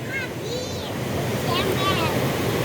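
A large river at a riverside campsite rushes steadily in the background, a broad continuous wash of water beneath people talking nearby.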